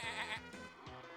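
Cartoonish sheep bleats from the game Super Auto Pets, three short, wavering calls in quick succession, clear and isolated.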